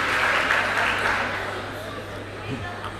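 Audience applause at a lecture on Islam, progress and development: a dense wash of clapping that is strongest at first and thins out over three seconds, with a voice speaking over it.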